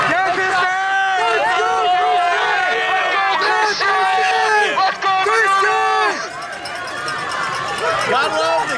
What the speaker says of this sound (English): Gotta love the excitement of the crowd right here.